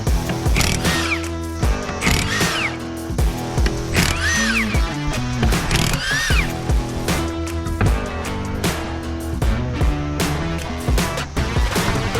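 A power tool works to remove a car wheel on a Volvo 740 during a front suspension job, making loud mechanical whirring and ratcheting bursts with rising and falling whines over the whole stretch, close up.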